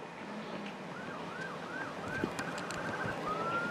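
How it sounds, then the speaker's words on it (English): A tribal officer's pickup truck siren wails in repeated rising and falling sweeps, fairly faint and distant at first over road traffic noise, then shifting to a steadier tone as it approaches at speed along a highway breakdown lane. "you hear that siren? That is another tribal officer in a pickup truck approaching from the breakdown lane at a rapid speed"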